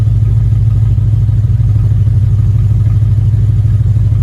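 A car engine idles at a steady, loud low rumble while it charges a camper trailer's 12-volt system, an even drone with no revving throughout.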